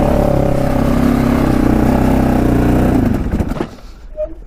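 A Can-Am DS 650 quad engine revs hard in second gear, a loud, steady growl close by that falters and clatters toward the end before dropping off.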